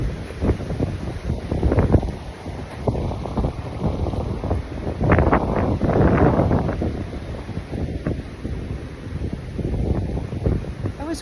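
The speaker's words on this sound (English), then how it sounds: "As you can see, it's cold and it's windy." Cold wind gusts through a garden, buffeting the microphone in uneven surges of rumbling noise that swell and ease over the stretch, with no speech.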